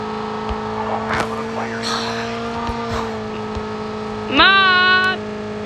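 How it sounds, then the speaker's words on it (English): A motorcycle engine hums steadily in the video game Call of Duty Mobile, with a few sharp clicks and knocks and a rising whine near the end. "So here's my motorcycle."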